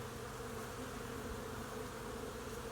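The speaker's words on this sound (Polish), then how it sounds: "przestało padać i pszczółki wystartowały" A dense, steady buzzing of many honeybees at the hive, just after rain has stopped, fills the air continuously, close and constant, with no voices.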